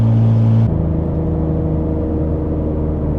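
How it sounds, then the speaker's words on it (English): An Infiniti Q60 with upgraded turbos drones steadily at high revs close by, its tone shifting abruptly early on, then holding a sustained whirring roar. "the way this car sounds on high RPM"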